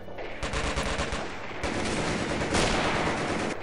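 Sustained rapid machine gun fire from an MG emplacement in the World War II strategy game Company of Heroes, loud and continuous bursts with dense crackling rounds and no talking.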